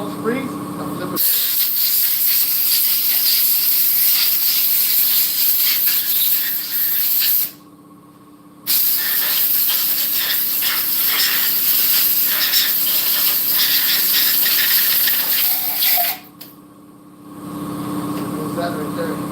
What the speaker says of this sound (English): spray all the springs, I'll flip it over.